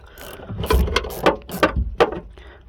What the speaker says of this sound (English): I have a ratchet holding it on top, and I'm hand cranking it, threading it on, and until it gets tight.